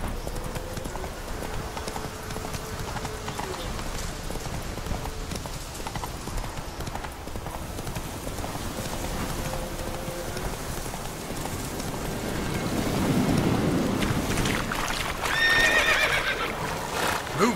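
Roach, a horse in The Witcher 3, gallops with quick rhythmic hoofbeats under game ambience, while whinnies and a rider's voice break in at moments and the pace grows louder near the end.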